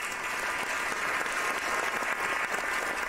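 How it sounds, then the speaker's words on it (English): Steady applause from a studio audience or crowd during a live sports talk show, dense continuous clapping at moderate loudness with no pauses across the whole stretch. "Give him a round of applause."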